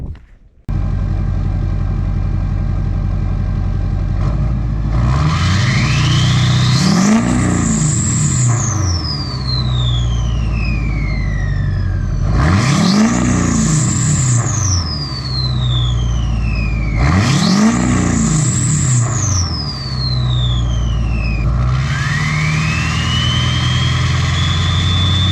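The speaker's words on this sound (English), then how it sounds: "So that is a 4-inch straight pipe MBPR exhaust." Straight-piped Chevy Duramax diesel pickup with a 64mm LDS turbo and 4-inch straight pipe exhaust, revved hard three times in a row, each rev climbing into a loud turbo whistle and spool before dropping back to a deep idle, then a fourth rise at the end.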